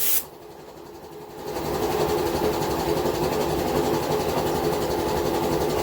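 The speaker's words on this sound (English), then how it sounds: "Get the blower on her again." An air blower switches on during a cleaning job and settles into a steady, loud whooshing roar with a low mechanical hum underneath, after a short quieter stretch at the start, with no talking.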